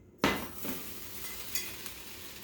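A sharp burst of sizzling hiss as water hits a hot pot holding a balloon, settling into a steady crackle with a few small clinks.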